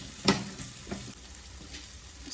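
Potatoes fry in a pan with a steady close sizzle, broken by a sharp scrape of stirring near the start and softer stirring knocks after, with no voices.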